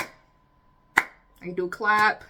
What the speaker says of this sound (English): So I gotta do a clap